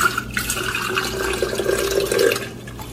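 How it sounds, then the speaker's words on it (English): Flowing water added as a sound to objects, a steady rushing, splashing wash with gurgling tones throughout, fairly loud and continuous with no voices. "The second series added the sound of flowing water to objects."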